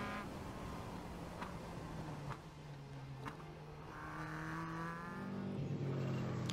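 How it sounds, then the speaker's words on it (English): A Caterham race car lapping Croft Circuit, its engine droning steadily from inside the car with pitch shifting as it works through corners and gears, loud and continuous with no talk. "As we go on board with David, just look how little movement goes through the steering wheel on a Caterham to get you through these corners."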